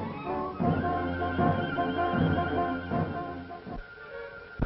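A horse neighs loudly and at length, a shaky drawn-out whinny close by, ending with a short snort, with no talking.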